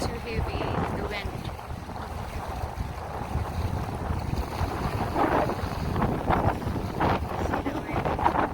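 Strong, heavy wind in bad weather blows steadily against the microphone with a constant rough roar and gusty surges, and a person speaks now and then underneath.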